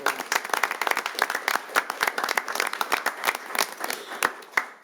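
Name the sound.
round of applause at city council meeting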